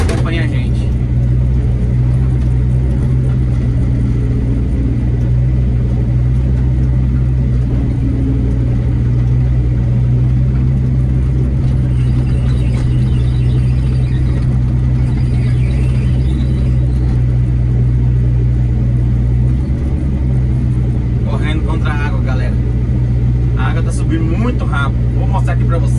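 A truck engine idles steadily with a low, constant rumble beside a lake embankment being rebuilt in heavy rain, with a faint voice in the background and rising activity near the end.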